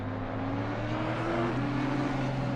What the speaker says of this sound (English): This Mercedes has an awesome sound as well. I do like the V8s.